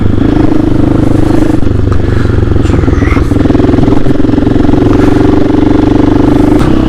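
A dirt bike on knobby tires rides through a campus, its engine a loud, steady close-up drone that runs unbroken from start to finish.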